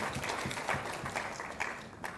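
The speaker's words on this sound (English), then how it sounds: "Another round of applause please." Brief applause from a seated audience at a live report launch on teen pregnancies in Kenya, a short burst of mixed clapping with a few distinct claps standing out.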